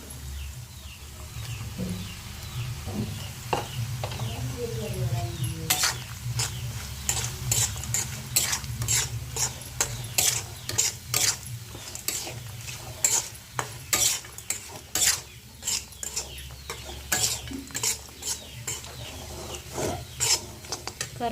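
A spoon scrapes and stirs a pounded chili, salt and spice paste frying in oil in a pan, giving repeated rasping strokes over a soft sizzle, close and irregular, with no talking.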